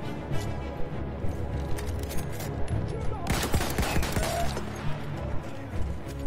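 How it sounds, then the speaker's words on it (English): Rapid bursts of gunfire ring out in the Battlefield 1 video game, loud and repeated over a dense battle background with heavier blasts partway through. "This gun's holding up well."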